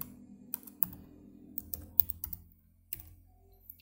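Computer keyboard typing while entering a t-table formula in statistics software, irregular clusters of close key clicks with short pauses, quiet room, no talking.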